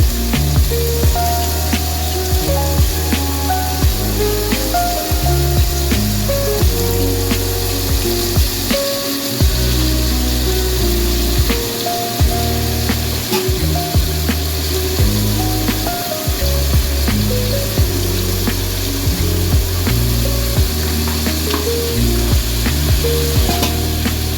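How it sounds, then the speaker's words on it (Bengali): About 250 grams of shrimp fry in hot oil, giving a loud, continuous sizzle with scattered crackles and a few stirring knocks that run unbroken for the whole stretch. "তেলের মধ্যে দিয়ে দিলাম ওই 250 গ্রাম মতো চিংড়ি।"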